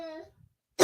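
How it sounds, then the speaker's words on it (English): A woman with asthma gives one short, close cough and clears her throat, followed by a pause and a quick burst of noise. "Forgive me for the coughing"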